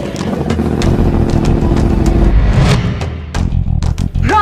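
A motorcycle engine rumbles loudly and close in a web series scene, holding a steady idle before it dies away into scattered clicks and knocks.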